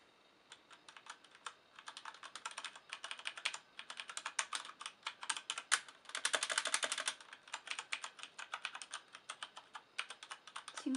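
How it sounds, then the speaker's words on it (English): Keys clatter on a Corsair Vengeance K70 mechanical keyboard with Cherry MX Brown switches, quick irregular bursts of close, crisp clicks typed alone in a quiet room. "Now I'm just going to quickly hit a few keys, and that'll give you an opportunity to kind of hear what it sounds like."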